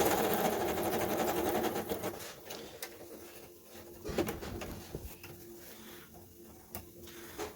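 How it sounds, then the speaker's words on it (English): A noisy sewing machine stitches with a dense, rattling mechanical whir, loudest at first, then easing and continuing more quietly with a few sharp clicks, close and without talk. "So you can see the machine's quite noisy actually."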